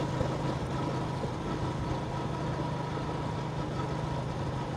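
A Bajaj CT 100 motorcycle engine idles roughly and steadily, sputtering near stalling, a low continuous chugging rumble with no voices over it.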